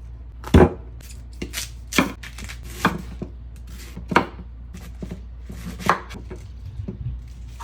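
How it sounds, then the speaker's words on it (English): A knife chops through cabbage on a cutting board in about seven separate sharp, crunchy strokes spaced roughly a second apart, close by, with quiet gaps between each cut. "I'm going to go ahead and cut up my cabbage."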